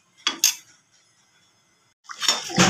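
Water is poured into a pot of simmering meat and potatoes in a home kitchen, with a couple of sharp clinks and then a brief rushing splash near the end.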